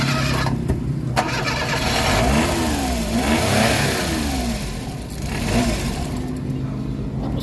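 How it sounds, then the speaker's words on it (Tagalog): A Suzuki car engine with strong vibration and stalling when the AC is on, revving up and down repeatedly at close range, the pitch rising and falling with each press of the throttle. "So kailangan naka-accelerate ka lang para hindi mamatay yung engine."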